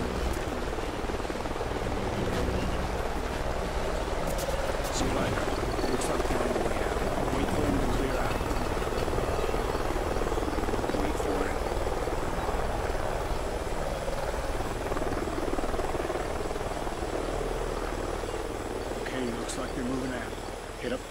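A helicopter flies somewhere ahead in the Call of Duty: Ghosts video game, a low, steady rotor drone heard at a distance among canyon ambience and insect-like chirps, with voices talking over it.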